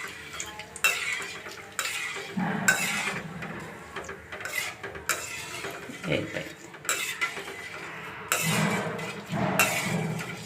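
Handful of curry leaves frying crisp in hot oil for karapusa, with a steady close sizzle under repeated scraping and stirring of a metal utensil against the pan.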